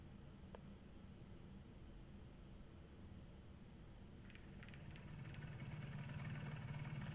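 Tugboat engine idling in Kentucky Route Zero, a low steady rumble under faint hiss that swells slightly louder toward the end, with a few light rattles, distant and quiet, no voices.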